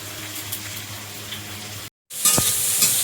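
Prawns sizzle in hot oil in a home kitchen, a steady frying hiss that cuts out briefly and returns louder and brighter with a sharp spatter, no voices.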